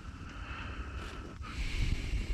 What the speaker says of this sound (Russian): смотрите, как ветер задувает.